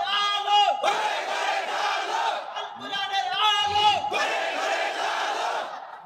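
A crowd chants Islamic slogans, including Naraye Takbir, in loud rhythmic unison with repeated swelling shouts.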